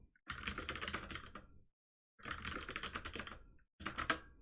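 Rapid clattering keystrokes on a newly switched computer keyboard, close and clear, in two sustained bursts separated by a brief pause and then a short final flurry.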